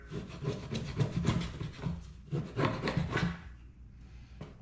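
Close, rhythmic scraping as old foam is rubbed off a Mazda Miata NB blower motor housing, a series of rough strokes, then a quieter pause and one brief scrape at the end.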